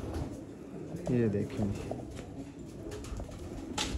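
Breeder pigeons coo in short low bursts at close range while someone talks over them, with a faint higher chirp near the end.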